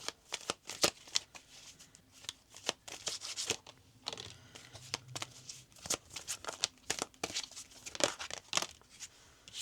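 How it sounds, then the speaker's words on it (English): Cards are shuffled for a tarot-style reading, a rapid run of crisp riffling snaps and flutters with short pauses between bursts, close and fairly quiet, with no voices. "let's go ahead and pull a couple more cards"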